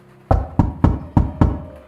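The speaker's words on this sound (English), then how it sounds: "another series of loud knocks came from the door" Five loud, evenly spaced knocks strike a door in quick succession, each a sharp heavy thud with a short booming decay, close and alone in a quiet room.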